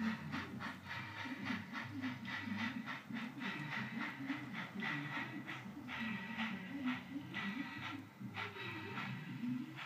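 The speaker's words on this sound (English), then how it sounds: "He's going to run the train a little bit more." A model railroad train runs on a garden layout, giving a continuous rhythmic clatter with repeated clicking pulses over a low hum, steady and fairly quiet throughout.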